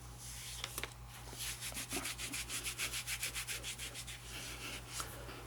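Kinesiology tape is briskly rubbed onto an ankle to help it stick, a quick series of rhythmic scratchy strokes, close and fairly soft over a low steady hum.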